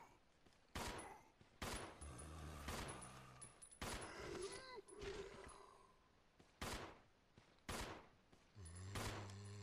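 Gunfire in the survival horror video game Resident Evil Zero: a run of loud, sharp shots spaced a second or so apart, some in quick bursts, over a steady game background with a low rumbling hum.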